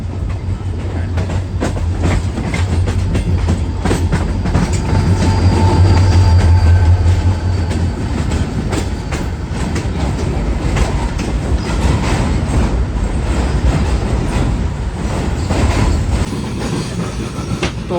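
NLC train passing close from the opposite direction at night, heard from aboard a moving express near Kotri Junction, with loud continuous rumble, rapid clickety-clack of wheels and steady droning throughout.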